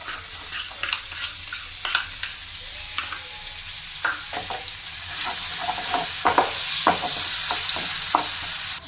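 Chopped onion sizzles steadily in a hot pan while being sautéed for a butter garlic chicken in coconut milk sauce, with occasional clinks and scrapes of a stirring spoon and the frying growing louder partway through.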